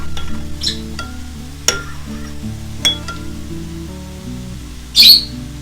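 Tomato paste being stirred with warm water in a pan, a quiet ongoing swirl over a faint sizzle, with a few sharp clinks of a utensil against the pan and a louder scrape near the end.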